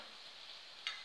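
Potatoes frying in hot olive oil in a pan, a faint, steady hiss of sizzling that holds for about a second with a slight bump near the end, with no talk.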